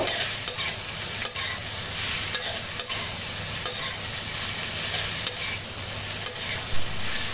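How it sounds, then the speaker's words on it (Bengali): Young jackfruit pieces with salt fry on a high flame while a utensil stirs them constantly, giving a steady bright sizzle punctuated by regular scraping knocks against the pan, close and without talk. "যেহেতু হাই ফ্লেমে রান্না করছি, তাই অনবরত নাড়াচাড়ার উপরই থাকতে হবে"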